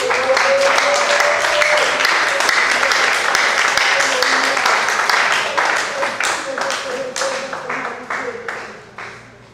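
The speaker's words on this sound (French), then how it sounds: "Nous pouvons encore l'acclamer très fort" A church congregation at a women's gathering applauds to acclaim God, a dense, sustained burst of many hands clapping with voices and cheering mixed in, holding steady before gradually thinning out toward the end.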